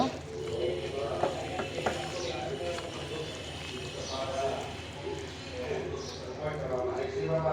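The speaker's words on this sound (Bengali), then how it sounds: "নাড়িয়ে দিচ্ছি" A spoon scrapes and clatters as spiced beef with oil is stirred in a large pot, giving irregular ticking and scraping under a voice that carries through most of the stretch.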